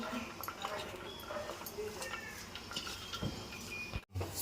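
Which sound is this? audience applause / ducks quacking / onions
onions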